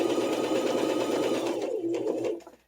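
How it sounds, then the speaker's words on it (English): A sewing machine runs steadily, reverse stitching fabric for a toiletry roll, the motor's hum continuous and close before it slows and stops near the end. "I do want to make sure that I reverse stitch right here."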